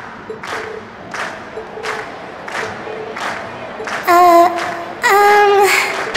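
In the video game Trails of Cold Steel, a crowd cheers at the end of a performance, with a steady roar of voices, rhythmic bursts of clapping and louder swelling shouts near the end.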